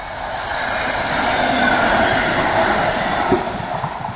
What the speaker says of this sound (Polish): Poleciał zielono-biały pociąg.